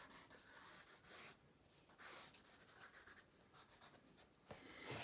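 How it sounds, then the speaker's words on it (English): Pencil strokes rub and scratch across paper while drawing hair on a face, a soft, close, steady scribbling with repeated short bursts and no talking. "Drawing in hair."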